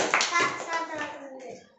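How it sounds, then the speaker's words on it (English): Second-class schoolchildren clap together in a classroom, a short burst of close, uneven hand claps fading out within seconds, with children's voices mixed in. "Now clap all of you."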